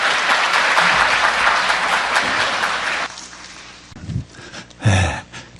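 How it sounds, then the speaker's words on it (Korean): An audience in a hospital's main auditorium claps loudly for about three seconds before the applause stops, leaving scattered rustles and thumps. "큰 박수로 맞이해 주시기 바랍니다."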